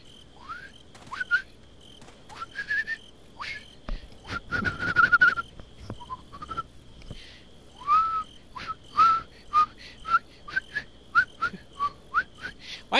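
Someone attempts to whistle for a dog, producing a run of short, thin, wavering whistles that come in uneven bursts, with a few breathy misfires and louder rustling in the middle.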